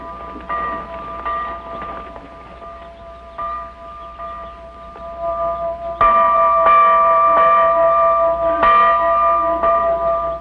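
Mission school bells rung by children clang in a steady, uneven peal with bright ringing overtones, growing louder and fuller partway through.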